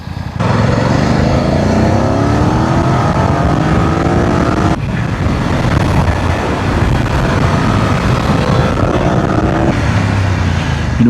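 A BMW R1250 Adventure or F900 GS adventure motorcycle rides hard and loud, its engine revving through rising gear sweeps with a sharp shift midway under heavy wind roar.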